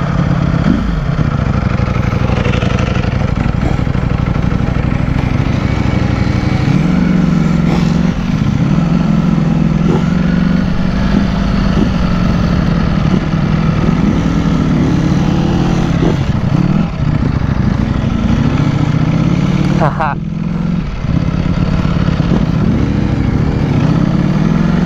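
Two Ducati Panigale V4R motorcycles riding together, a loud continuous engine drone with shifting pitch as they accelerate and ease off, heard close and steady throughout without speech.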